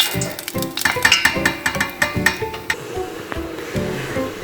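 Khoshan dumplings frying in oil, with crackling sizzle and sharp clinks and scrapes of a utensil against the pan, close and fairly loud.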